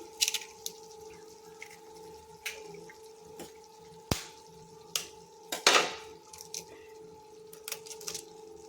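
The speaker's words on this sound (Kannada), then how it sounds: "ಮೊಟ್ಟೆ ಹೊಡೆದು ಹಾಕೊಳ್ಳಿ. ನಾನೊಂದು 10 ಮೊಟ್ಟೆ ಹಾಕೋತಾ ಇದ್ದೀನಿ." Eggs cracked one after another into a pot, with sharp knocks against the rim and wet drops and splashes, irregularly spaced, over a steady low hum.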